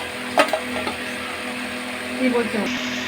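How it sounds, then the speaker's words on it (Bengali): Fried katla fish pieces drop into a simmering potato curry, giving a soft plop or two over a steady sizzle and faint scraping in a close kitchen pan. "ভেজে রাখা যে মাছগুলো ছিল মাছগুলো এক এক করে এর মধ্যে দিয়ে দিতে হবে।"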